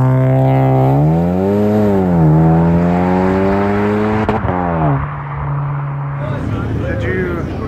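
An all-wheel-drive-swapped Volkswagen Jetta fitted with Mark 6 Golf R rear knuckles and spacers drives by, its engine note rising and falling through steady acceleration and shifts, loud and close, then settling into a rougher, quieter hum.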